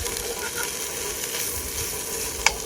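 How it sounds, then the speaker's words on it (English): Potatoes and onions fry in olive oil in a cast iron skillet at a campsite, a soft steady sizzle with faint stirring scrapes and one sharp utensil tap near the end. "So yeah, I cook these potatoes until they have a little stick to them."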